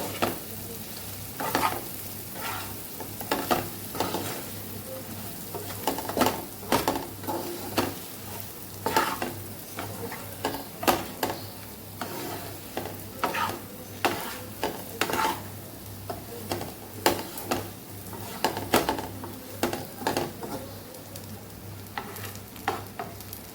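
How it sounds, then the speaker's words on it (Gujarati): Leftover spice mix is stirred into a Kathiyawadi stuffed ripe gunda curry in a pan, with a spoon scraping in repeated uneven strokes over a steady soft sizzle and a low background hum. "હવે આપણે જે બચેલો મસાલો છે એ ઉમેરી દઈશું ઉપરથી અને સરસ આપણે મિક્સ કરી લઈશું"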